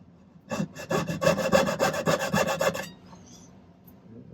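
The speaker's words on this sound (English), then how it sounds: "Kind of keeps your saw on track while you cut into there just a little bit." A jeweler's saw cuts through silver in a quick run of about a dozen rhythmic rasping strokes, close and clear with no talking, then stops.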